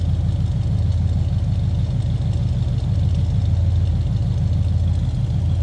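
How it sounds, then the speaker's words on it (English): A 1977 Pontiac Grand Prix LJ with its Pontiac 400 V8 idles steadily with a deep, even rumble and a mild exhaust note, close by and uninterrupted for the whole stretch. "Nothing too crazy over the top for exhaust, just nice sounding Pontiac 400 V8."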